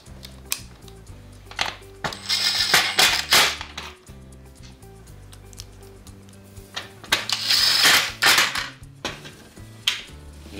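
Metal M4 metric screws are driven with a PH2 screwdriver bit while fitting a cabinet bracket during a kitchen build, giving close, uneven clicks, taps and scraping bursts with short pauses between.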